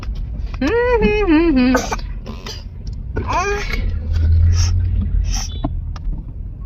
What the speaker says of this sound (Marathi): बघा कशी खोकती खोकला आलाय